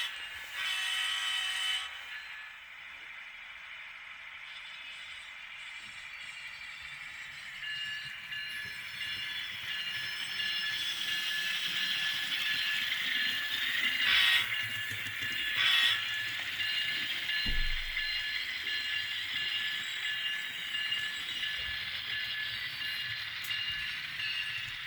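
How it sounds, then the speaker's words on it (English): A model-scale GE ET44 Tier 4 GEVo locomotive runs along the track, with a sustained high metallic rail squeal that keeps shifting in pitch over a soft mechanical rumble and a few clicks, heard close and without talk. "I love the squealing of the rail sound on this thing."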